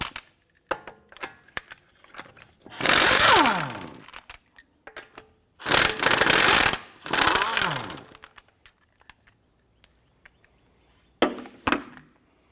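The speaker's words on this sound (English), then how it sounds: "go ahead and remove your lug nuts." An impact wrench spins 19mm car lug nuts loose on a 2004-2008 Acura TL, three loud buzzing bursts of a second or more each, with clicks and handling noise between them and a short final burst near the end.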